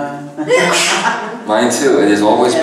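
A person sneezes once, sharply and close, between stretches of calm conversational speech from nearby voices.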